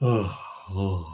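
A person yawning during relaxing jaw and neck stretches: a close, breathy, voiced stretch of sound, a brief pause, then a second drawn-out voiced exhale.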